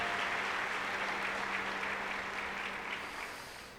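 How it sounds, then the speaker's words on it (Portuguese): Church congregation applauding steadily, a broad, dense wash of clapping that holds for several seconds and slowly fades toward the end. "Você pode aplaudir a Jesus aí?"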